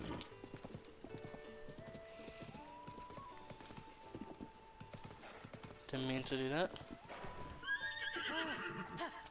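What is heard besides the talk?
horse neighing and hooves clip-clopping in The Legend of Zelda: Tears of the Kingdom video game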